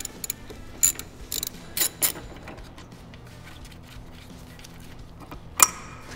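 Two 12 mm bolts on the fuse box of a Chevy Impala are loosened with a ratchet: scattered short clicking bursts of the pawl, close and sharp, separated by quiet gaps.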